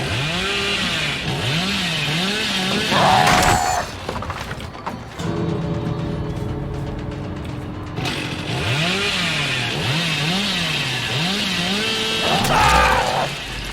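A chainsaw in the video game Dead by Daylight revs and saws in rising, wavering whines, broken by a short quieter stretch, with game effects around it.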